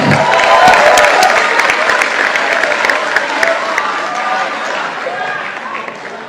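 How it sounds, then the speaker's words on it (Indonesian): A large crowd at a party congress bursts into loud applause to welcome the new PSI party chairman, Kaesang Pangarep; dense clapping and cheering start strong and slowly fade, with voices mixed in. "Kita sambut dengan tepuk tangan yang meriah Ketua Umum KSI"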